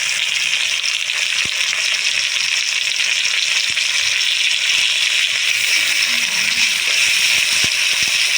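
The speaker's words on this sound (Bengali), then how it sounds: "ভাজতে দেবো কিছুক্ষণ" Onion and chopped tomato frying in a pan for a Bengali jackfruit-and-prawn dish, a steady loud hiss of sizzling oil running unbroken throughout, with a few faint clicks of stirring underneath.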